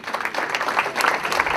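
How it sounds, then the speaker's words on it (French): Audience applause at a local community event, a steady dense patter of many hands clapping throughout, fairly close and even in level. "on les applaudit aussi"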